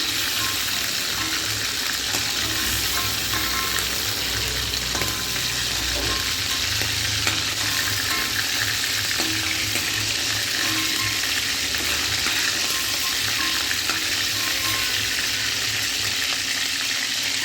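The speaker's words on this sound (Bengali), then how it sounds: "সব চিংড়ি মাছগুলো হালকা হালকা করে ভেজে নিয়ে তুলে নিচ্ছি।" Shrimp are lightly fried in a pan, sending up a continuous, loud, crackling sizzle that runs throughout, with occasional soft stirring sounds beneath it.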